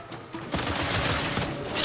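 Rapid automatic gunfire in The Outer Worlds 2 bursts out loud and dense after a quiet half-second, holding as a continuous rattling barrage that swells toward the end.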